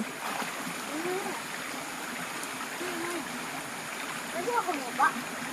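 Continuous rushing water from a nearby forest stream, with a few splashes as someone bathes and faint voices toward the end.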